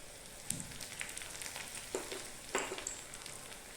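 Curry leaves sizzling in hot oil for a fish curry, a soft continuous crackle with a few sharper pops and light stirring, fairly quiet and with no voices.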